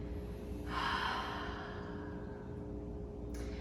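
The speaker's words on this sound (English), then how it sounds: "another open mouth exhale" A slow open-mouth exhale, a soft breathy rush lasting about a second and fading out, close and quiet over a steady low hum, with a faint short breath near the end.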